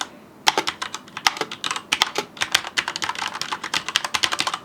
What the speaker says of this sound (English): So standard keys.